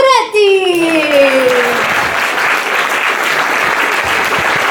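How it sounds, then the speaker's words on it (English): Audience at a live comedy show bursting into sustained applause, dense steady clapping that fills the room after a brief vocal cue, loud and close. "Please give a round of applause for Marco Moretti!"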